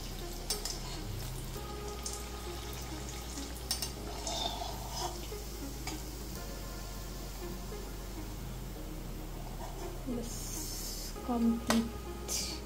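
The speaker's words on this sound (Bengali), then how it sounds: "একটু চেপে চেপে ভাজতে হবে যাতে করে ভিতরটা একদম কাঁচা না থাকে।" Fish roe fritters frying in a pan and pressed down as they cook, a continuous crackling sizzle with occasional scrapes and knocks of a utensil against the pan, louder clatter near the end.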